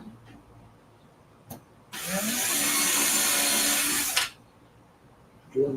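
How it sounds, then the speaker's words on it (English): A power drill boring pilot holes for small panhead screws in a router table build runs in one steady whine of about two seconds, close and loud, with faint workshop clicks before and after. "Drill me a few pilots."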